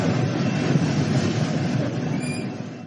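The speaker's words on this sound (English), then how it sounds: "as the train rolls forward" A train rolling forward on the rails, a steady close rumble with faint wheel squeal near the end and no voices.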